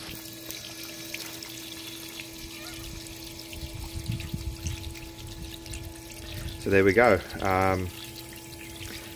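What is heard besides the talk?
pump pumping water out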